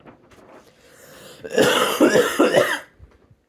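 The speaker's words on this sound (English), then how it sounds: "Dang, cough." A short run of close, loud coughs from one person, three or four harsh bursts packed together, with quiet room tone before and after.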